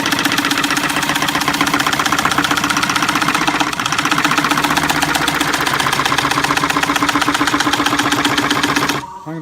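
An ash wall platter spins on a wood lathe running near 465 rpm, giving a loud, steady mechanical drone with a rapid repeating chatter throughout, ending abruptly near the close.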